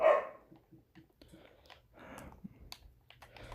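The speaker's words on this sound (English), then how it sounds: "Sorry about the dog in the background." A dog gives one loud bark up close, then quieter scattered clicks and tapping follow in an otherwise quiet room.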